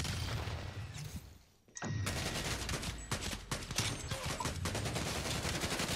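Rapid gunfire in the video game Call of Duty: Black Ops Cold War, with dense bursts of shots that cut out briefly and then resume in loud, repeated volleys.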